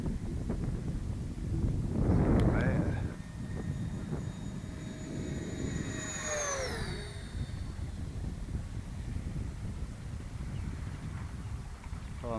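A FreeWing ME262 RC jet carrying a 6S 8000mAh LiPo flies overhead with a faint, steady ducted-fan whine, rising and falling in pitch as it passes, over wind buffeting the microphone.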